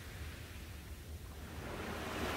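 Calm sea at early morning with small waves lapping gently on a sandy shore, a faint, soft, steady wash that swells slightly toward the end, with no voices.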